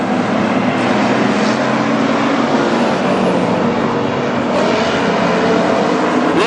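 Street stock race cars at Granite City Speedway in a WISSOTA race, their engines a steady, loud, continuous roar filling the whole stretch with no pauses.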